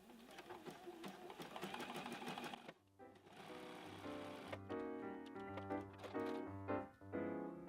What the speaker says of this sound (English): we're going to stitch down both sides to seal up the bag